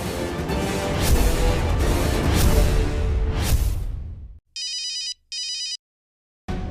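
A telephone rings at night in a home: two short, bright electronic ring bursts separated by a brief pause, following a loud rushing swell of sound.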